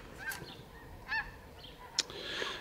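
Scattered honks from a flock of snow geese, a few distinct calls spaced apart, fairly distant, with outdoor background noise.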